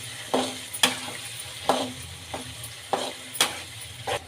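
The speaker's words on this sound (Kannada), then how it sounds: "ಈಗ ಚೆನ್ನಾಗಿ ಎಣ್ಣೆಲಿ ಫ್ರೈ ಆಗಲಿ" Ground raw mango chitranna masala frying in hot oil sizzles softly and steadily, punctuated by about eight sharp, close spatula scrapes and taps against the pan at an uneven pace.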